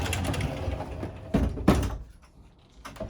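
A privacy door slides on its track inside a 2001 Fleetwood American Eagle motorhome, giving two short, close rolling bumps about a third of a second apart, followed by faint handling noises.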